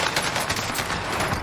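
Gunfire from a gunfight in the video game Warzone arrives as a dense, continuous burst of rapid shots, loud and steady throughout with no clear gaps between reports.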